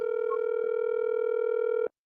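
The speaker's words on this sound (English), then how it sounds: "We only get the phone ringing, boy." An unanswered telephone call gives a single steady ringing tone, loud and unbroken for nearly two seconds before it cuts off abruptly into silence.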